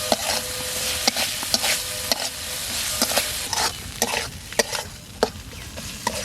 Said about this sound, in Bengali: মশলা থেকে তেল ছেড়ে দিয়েছে, মশলা কষানো হয়ে গেছে